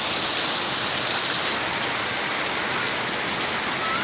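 Heavy rain pouring down over a flooded village, a loud dense unbroken hiss of drops hitting water and surfaces, steady throughout with no voices.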